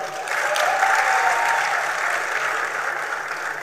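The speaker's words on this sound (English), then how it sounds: "Please clap for them." An audience claps for a volunteer couple at a relationship and money talk, a steady wash of applause that swells quickly and then eases, with a faint whistle-like tone audible within it.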